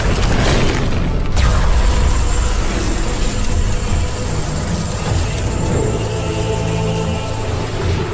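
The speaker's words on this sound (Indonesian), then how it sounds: "Dewa Barat yang kesal karena tak menemukan apa-apa mengamuk dengan melepaskan tembakan-tembakan petirnya" Thunderous lightning blasts and explosions in a fantasy battle: a sharp crack near the one-second mark, then a dense, loud rumbling roar with layered mechanical, booming texture that runs unbroken to the end.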